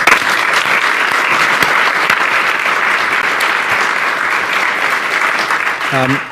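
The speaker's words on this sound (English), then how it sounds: "So a warm round of applause for them, please." Audience applause at a club lunch, thanking the sponsors, fills the room with steady, dense clapping that holds loud and even throughout, with a brief voice near the end.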